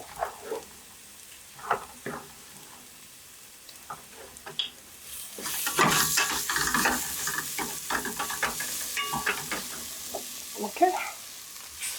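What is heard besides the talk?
stirring minced meat and coconut frying in a pan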